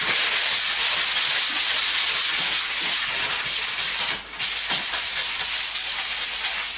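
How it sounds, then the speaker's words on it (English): A sanding pad scrubs over dust-control drywall mud on taped joints during an office drywall finishing job, a loud, continuous close-up rasping hiss with a brief dip near the end. "Alright, now that we're sanding, we don't want to sand this tape."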